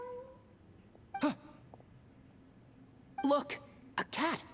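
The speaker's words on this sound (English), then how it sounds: "Look, a cat." Short meows from a cat in the Genshin Impact game: one brief call early on, then a cluster of three quick meows near the end, close and clear over a faint background hum.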